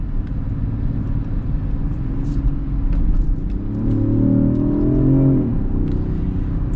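A 2023 Range Rover Sport accelerates from a standstill in S mode. Its engine gives a steady low rumble from inside the cabin, with rising revs and quick gear shifts heard about midway.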